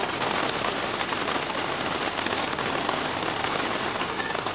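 Very heavy rain pours down steadily during a flood, a dense, continuous roar of drops close by with no pauses for several seconds.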